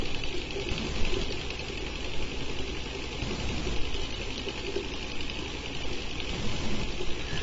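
A motor in an initial test build, spinning at roughly 300 RPM: a steady, even mechanical hum with a fine rapid vibration, constant and close, with no talking.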